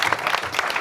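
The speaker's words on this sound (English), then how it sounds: "Just give yourself a round of applause" A short burst of clapping from a seated audience at a founders' talk, brisk and fairly close, lasting under a second.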